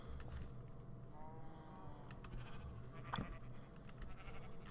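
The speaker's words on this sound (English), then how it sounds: "Need more sheep, I know." Sheep in a video game bleating several times, wavering calls that sound fairly close, over steady game background noise with no talking.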